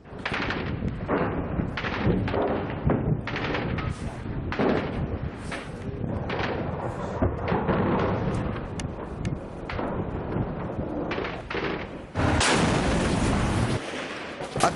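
Heavy artillery and rocket fire during a Syrian army offensive south of Aleppo forms a dense, continuous roar of booms and blasts. Distant rumbling and wind buffeting the microphone run throughout, and the noise surges louder near the end.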